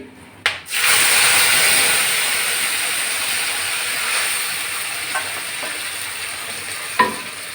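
Masala with cinnamon, cloves and cardamom dropped into hot mustard oil while cooking rohu fish dopiyaza, a sharp clatter followed by a loud, continuous sizzle that slowly eases, with a couple of light utensil knocks.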